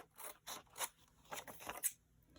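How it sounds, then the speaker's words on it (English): Scissors snip through paper in a series of short, crisp cuts, close by and fairly quiet, about seven snips in quick succession. "I'm going to take my scissors and I'm going to trim it down"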